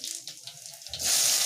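Cumin seeds drop into hot oil in a wok and burst into a loud, steady hissing sizzle after a few light taps and rustles.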